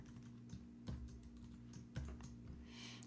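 Keys clatter on a computer keyboard in a short burst of typing, soft and close, with a few sharper keystrokes standing out.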